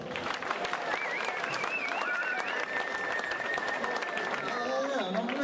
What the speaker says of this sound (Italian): voglio un applauso caloroso da parte di tutti gli uomini della piazza